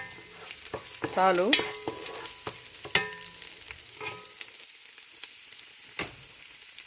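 Three green chillies sizzle and crackle in hot oil in a frying pan for soya chunk veg biryani, with scattered sharp pops and stirring clinks under a soft sizzle, and a brief spoken word.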